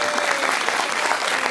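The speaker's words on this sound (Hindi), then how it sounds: "अंकल के लिए ताली।" Studio audience on a television talk show applauding, a dense burst of clapping that holds steady and loud throughout.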